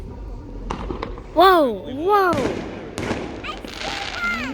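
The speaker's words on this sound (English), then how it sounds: "There's more fireworks." Fireworks bursting at a 2022 display, several loud cracks and booms with whistling rising streaks, sounding fairly near amid excited exclamations and chatter from onlookers.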